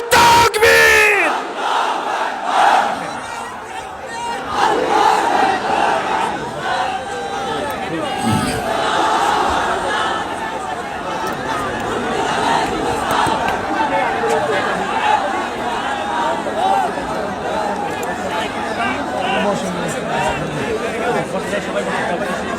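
A large crowd at a religious gathering chants Allahu Akbar in loud, massed unison in response to the Nara-e-Takbir call, surging at the start, then settling into a sustained roar of voices and chatter.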